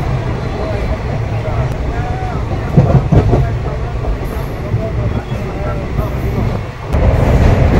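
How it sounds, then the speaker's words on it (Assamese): Intercity train from Guwahati to Dekargaon crossing the Saraighat bridge over the Brahmaputra, heard from inside the carriage as a steady low rumble with rhythmic clatter throughout, rising slightly near the end. "ৰেলত বহিছোঁ"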